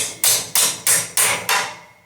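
A hammer knocks a lodged cone loose from a TorqueMaster garage door spring: five sharp metallic strikes at an even, quick rhythm, close and loud, each ringing briefly before the next.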